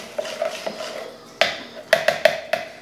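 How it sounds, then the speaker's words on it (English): A utensil scrapes and clinks against a bowl while stirring a dry mixture of powders and clays for homemade deodorant, with a few sharper taps standing out near the end, close and fairly quiet. "And you want to stir it pretty thoroughly"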